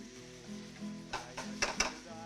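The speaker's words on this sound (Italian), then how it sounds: "Saltiamo bene" Mezze penne pasta being tossed in a pan gives a soft sizzle under a low hum, then a few sharp clinks and scrapes of utensil against metal near the end.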